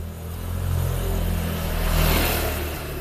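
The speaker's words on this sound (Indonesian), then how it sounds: "Mohon maaf terganggu dengan suara motor ya" A motorcycle passes along a village roadside, its engine a mid-pitched drone that rises and peaks before easing away, steady and fairly close.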